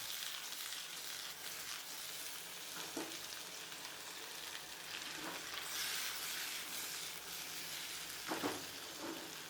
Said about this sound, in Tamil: கொஞ்சம் உப்பு சேர்த்து நல்லா வதக்கி எடுத்துக்கலாங்க